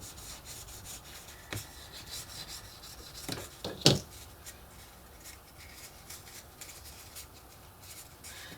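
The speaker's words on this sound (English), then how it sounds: "Then reach in and give that join a good burnish." Paper model join being burnished, for a steampunk locomotive steam dome: soft, low rubbing and rasping strokes close up, mostly quiet with one brief sharper scrape.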